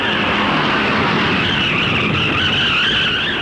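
Race cars skidding in a five-car pileup at the 1964 Darlington Southern 500: a steady, loud wash of engine roar and tire noise with a rising squeal toward the end and no talk.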